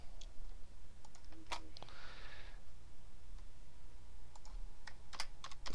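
Quick typing on a computer keyboard while entering cells in an Excel spreadsheet: scattered sharp key clicks in short bursts, close and fairly loud, with a brief pause in the middle and no speech.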